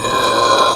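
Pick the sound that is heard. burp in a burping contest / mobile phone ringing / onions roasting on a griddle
burp in a burping contest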